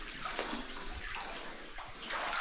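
A miniature waterfall beside a deep pool near a hidden cave gives a soft, steady rush and splash of falling water, faint and continuous.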